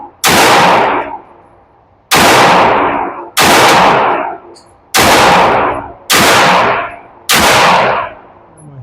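Canik SFX Rival S pistol fitted with LOK grips firing six loud, close shots at a steady pace of roughly one per second, each crack followed by a short decaying tail.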